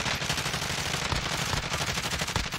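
Sustained automatic gunfire in the video game Warzone, a dense rapid stream of shots at steady loudness with no breaks, close and continuous throughout.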